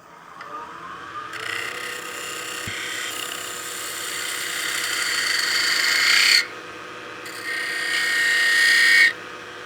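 Wood lathe spinning as a snowman oil candle is turned, a steady rising whir with tool cutting noise that builds, breaks off briefly, then resumes louder before stopping.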